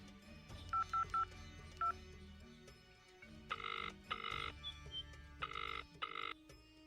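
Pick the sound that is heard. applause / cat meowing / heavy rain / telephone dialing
telephone dialing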